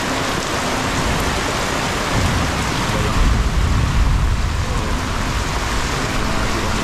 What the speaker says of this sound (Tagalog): Ulan, walang humpay na ulan.